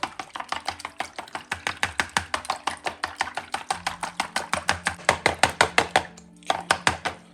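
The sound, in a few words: beating eggs with a chopstick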